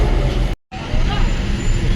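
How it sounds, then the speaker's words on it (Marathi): Traffic on a winding mountain road near Gangtok, Sikkim: a steady, close roar of vehicles with a broad road rumble, briefly cutting out for a moment before resuming. "पहाड़ों का ट्रॅफिक"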